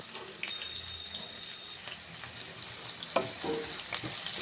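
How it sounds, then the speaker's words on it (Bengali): Chopped onion fries in a pan for chicken kasha, a soft continuous sizzle with a few sharp clinks and stirring knocks, fairly quiet and close with no talking. "পেঁয়াজটা একটু ভেজে নেব,"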